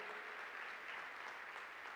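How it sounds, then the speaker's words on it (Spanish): A church congregation applauding together in a dense, even patter of many hands, steady and moderately distant, with no one speaking over it. "Dele un aplauso al Señor si usted lo puede creer."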